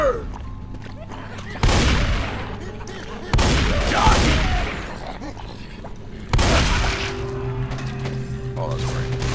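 Explosive-ammo gunfire in the zombie shooter game Left 4 Dead, three heavy blasting bursts that each decay into rumble, with game noise in between.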